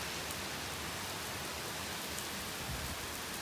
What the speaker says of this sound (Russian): начался дождь и порывы ветра